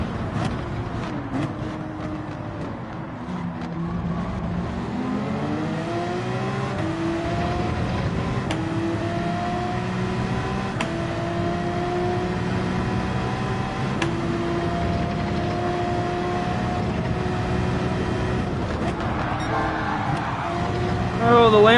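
Cars race in the Gran Turismo video game, with a steady engine drone rising and falling in pitch through gear changes, continuous for about twenty seconds while a player talks over it.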